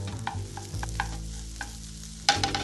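Chopped green onions stirred into scrambled egg in a hot pan for special fried rice, a soft sizzle under a few scraping stir strokes, ending with a sharper clatter of the spatula.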